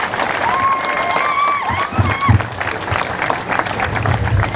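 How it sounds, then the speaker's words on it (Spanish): Audience applause at the opening of a cultural festival in San Luis Potosí, steady clapping with some cheering and shouted voices, fairly loud, a few whistles rising above the crowd. "para lo cual pido un fuerte aplauso"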